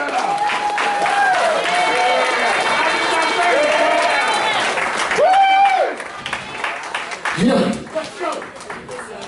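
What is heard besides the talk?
audience applause for comedians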